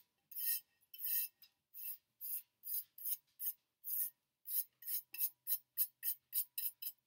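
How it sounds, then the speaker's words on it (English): Dry paintbrush sweeping excess glitter off a tumbler, a run of short bristly brushing strokes in a quickening rhythm, close and alone. "take my dry paintbrush and just remove all the excess"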